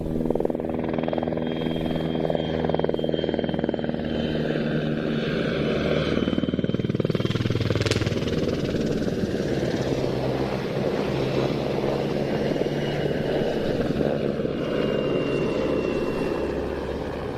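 A PZL W-3 Sokol helicopter flying at an air show, a steady loud rotor and engine drone with changing tones that continues throughout, with no talk and some wind noise.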